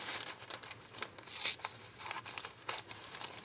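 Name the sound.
cutting paper pattern with scissors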